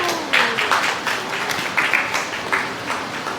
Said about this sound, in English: may we please continue the applause